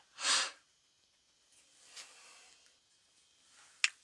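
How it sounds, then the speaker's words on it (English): A pet cat gives a single sharp, close sneeze, followed by faint breathy rustles and a small click in an otherwise quiet room. "that was my cat. He just sneezed."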